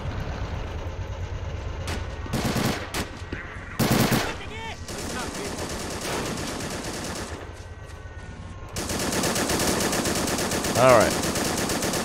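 Machine gun fire in the World War II game Men of War: Assault Squad, set at a 1944 Pacific airfield on Saipan: loud rapid bursts and sustained automatic fire over battle rumble, with someone speaking briefly.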